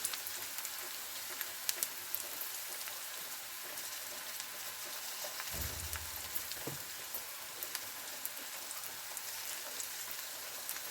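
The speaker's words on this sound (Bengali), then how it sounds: "দিয়ে ভালো করে তেলের মধ্যে নেড়ে চেড়ে হালকা ভেজে নেবো।" Onion and capsicum frying in oil as they are stirred for a chicken gravy, a steady close crackling sizzle throughout with a brief low scrape of stirring partway through.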